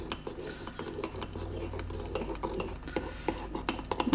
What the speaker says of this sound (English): Now, okay, I'm gonna stir this together.